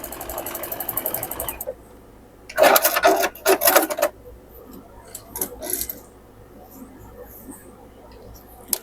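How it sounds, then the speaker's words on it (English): A sewing machine runs a quarter-inch seam with a quarter-inch foot down quilt blocks, giving a short burst of close motor whir, then a longer stitching run, with small clicks and fabric handling between. "We're going to sew with a 1/4 inch foot, a 1/4 inch seam, and sew straight up and down these"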